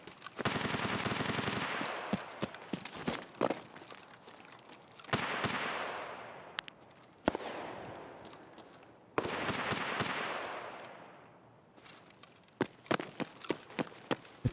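SR-25 rifle fire in Escape From Tarkov comes as loud sharp shots, with several bursts and single cracks spread over the stretch, each trailing off in a long echoing tail.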